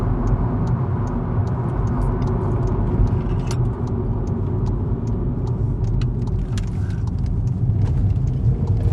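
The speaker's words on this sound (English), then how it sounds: "See if you can hear the engine." A Seat Ibiza hatchback engine hums steadily at close range, a low continuous rumble with faint ticking above it.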